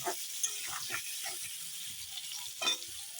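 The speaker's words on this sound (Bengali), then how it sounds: "এখন ভাজাটা হোক তারপর দেখাই" Mixed vegetables, including pumpkin, sizzle and crackle steadily in hot oil, a constant close hiss with occasional stirring scrapes and no voices.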